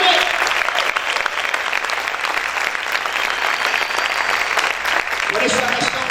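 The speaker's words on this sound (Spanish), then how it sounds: "Vamos a aplaudir fuerte al Señor." Loud, sustained applause fills a church as the congregation claps steadily for several seconds, with voices shouting and talking through the clapping.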